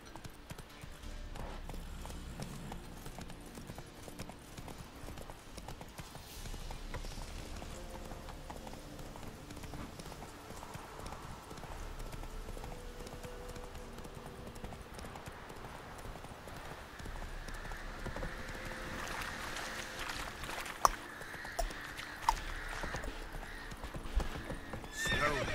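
Roach the horse in The Witcher 3 gallops with steady rhythmic hoofbeats and lets out whinnying neighs, fairly faint game audio with occasional voices and sharp clicks near the end.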